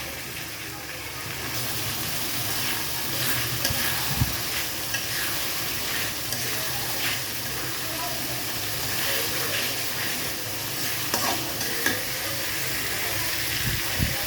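Leaves sautéed in a hot pan for a duck bhuna, a dense continuous sizzle and hiss with occasional stirring knocks, loud and close throughout.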